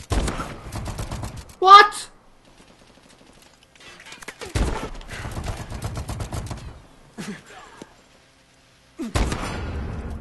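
Gunfire in the video game Call of Duty Advanced Warfare comes in several sharp bursts of shots, mixed with loud, excited talk and a shout.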